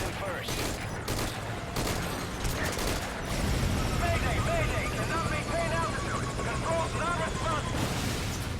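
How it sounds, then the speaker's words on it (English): A helicopter in the video game Metal Gear Solid V: Ground Zeroes thrums steadily, with bursts of gunfire at the start and a voice speaking over the rotor noise. "The chopper."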